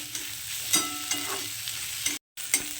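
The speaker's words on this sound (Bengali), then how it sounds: "এবার এটাকে আর একটু ভাজা করবো" Chopped onion, garlic, green chilli and grated ginger sizzle in a pan for a Bengali Lote fish jhal. A steady close hiss carries several stirring clicks and scrapes, with a very brief dropout near the end.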